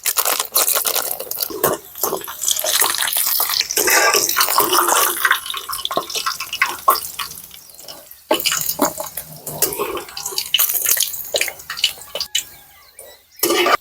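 Nuts and raisins frying in sunflower oil and ghee for a Kerala-style beef biryani, a busy, crackling hiss with spitting pops that runs steadily, dipping briefly around the midpoint before resuming close and loud.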